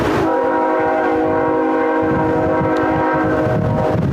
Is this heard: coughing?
no